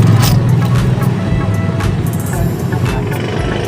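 A motor engine catches and keeps running after its original replacement parts are fitted, a loud steady low rumble filling the clip with brief higher bursts, as a voice talks over it.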